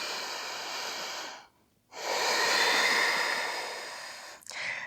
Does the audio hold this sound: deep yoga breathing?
yes